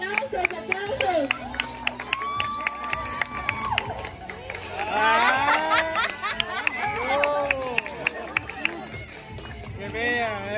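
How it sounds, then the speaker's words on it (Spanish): A crowd at a quinceañera celebration applauds the birthday girl, with brisk rhythmic claps ticking steadily beneath a loud, excited announcer's voice and cheerful crowd chatter throughout. "¡Preséntala, preséntala, la quinceañera! ¡Aplausos, aplausos!"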